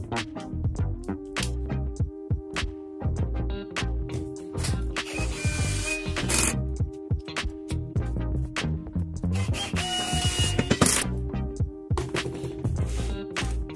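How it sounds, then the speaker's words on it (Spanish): A power screwdriver whirs in repeated bursts as screws are driven through a frame into pallet wood for a homemade almond cracker, with clicks and scrapes between the runs. "Así que vamos a atornillar."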